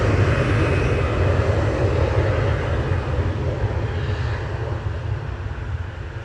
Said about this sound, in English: that was the loudest plane today